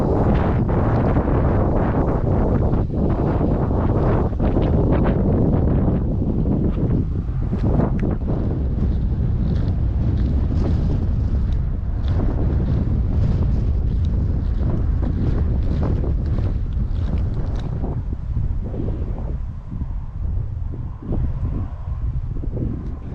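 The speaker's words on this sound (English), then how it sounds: "Sorry about the wind, I'm not sure if you'll even hear me" Strong outdoor wind buffets the microphone in a continuous loud low rumble with gusty fluctuations, on a sightseeing stop in South Australia, with no voices heard.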